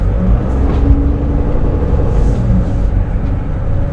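A car drives slowly around a town square, a steady, close engine rumble and road noise heard from inside the vehicle.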